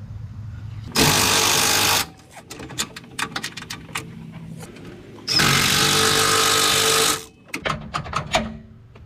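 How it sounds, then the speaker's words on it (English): A power tool tightens the last engine bolts, two long, loud buzzing runs of a couple of seconds each, separated by clinks and clatter of metal parts being handled close by. "just gotta tighten them down"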